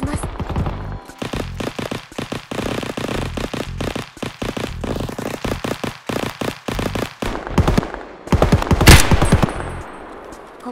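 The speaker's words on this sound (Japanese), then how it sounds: "ここから伏せた状態で狙撃します" Rapid bursts of gunfire crack out in the video game Escape from Tarkov, loud repeated shots in quick volleys with a heavier blast near the end.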